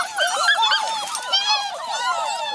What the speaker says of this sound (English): it's like a seething wall of puppies